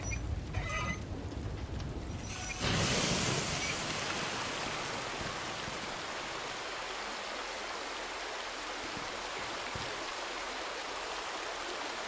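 Tap water running in the Resident Evil 2 video game, a constant gushing hiss that swells briefly early on and then settles into a steady, moderately loud flow with no speech.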